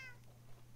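A small cat meows in the game Minecraft, a short high-pitched call at the start fading into a steady low background hum.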